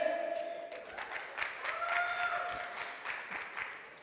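An audience at the E-Commerce Awards 2014 ceremony applauds, a soft, moderately distant patter of clapping that swells and fades over several seconds, with faint voices mixed in.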